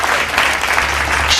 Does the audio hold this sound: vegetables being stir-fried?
no